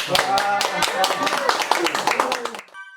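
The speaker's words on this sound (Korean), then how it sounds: "저희 그럼 박수로 마무리하도록 하겠습니다" Small online-event audience clapping at the close of a SolidWorks 2023 training launch, a brisk run of sharp hand claps for under three seconds before cutting to silence; a voice may sound faintly underneath.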